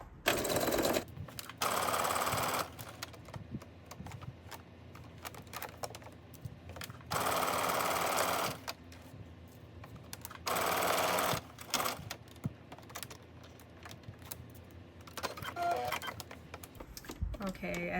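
A sewing machine edge stitches a quarter inch from the edge of a jumpsuit pocket facing, running in several loud bursts of steady rapid stitching with quiet handling and pauses between them.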